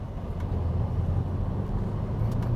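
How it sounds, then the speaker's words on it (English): An oncoming car sweeps past while riding inside a 2020 Aston Martin DBX SUV, heard as a brief whoosh over the steady low drone of road and engine noise. "Badly judged overtake by the car coming the other way."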